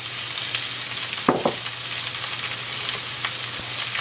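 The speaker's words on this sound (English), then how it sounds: "A little oil in there. And the vegetables go in." Mixed vegetables sizzle softly in a little oil in a pan while being softened for a shepherd's pie, a steady close fry with a couple of brief clatters of stirring.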